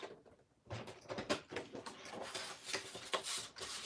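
Paper is trimmed for a scrapbook layer in a craft session, giving a close, quiet run of rasping, rubbing cuts and sliding strokes that start after a short pause and continue steadily.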